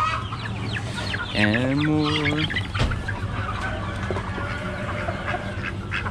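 Chickens, including barred rocks, cluck and squawk at an Amish animal auction, with a rising drawn-out call standing out among busy crowd noise and a few brief spoken words.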